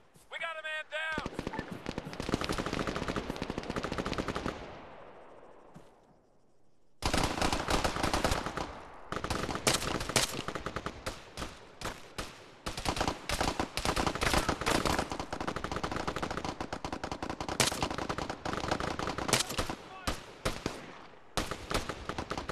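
Sustained bursts of automatic machine gun fire in combat, loud and dense, with rapid rattling volleys broken by a brief lull before resuming at full intensity; a voice is heard early on.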